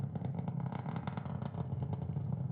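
Nine Merlin engines of a SpaceX Falcon 9 rocket during ascent on a Starlink launch from Cape Canaveral, heard as a steady, crackling rumble that stays constant and heavy throughout.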